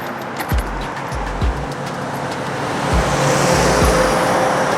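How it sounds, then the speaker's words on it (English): Heavy roadway rumble as a big rig truck approaches from behind a cyclist in traffic, a broad engine and tire roar that swells louder over a few seconds, close and dominant, with a few low thumps. "I got a big rig coming up behind me"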